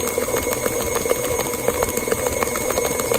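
KitchenAid stand mixer beating caramel cake batter, a steady mechanical whir with rhythmic ticking pulses from the beater, close and continuous.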